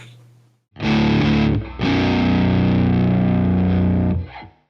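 A heavily distorted low baritone guitar chord with flatwound strings rings out loud and sustained, briefly cut off and struck again, then held before fading.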